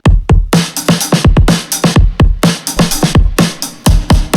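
A live drum kit plays a steady groove, with punchy kick and snare hits and bright cymbal wash, close and loud.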